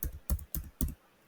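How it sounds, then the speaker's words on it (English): Four distinct keystrokes tapped on a computer keyboard while entering a number, close and crisp with short gaps, the last trailing off into quiet. "then I'm typing a number here"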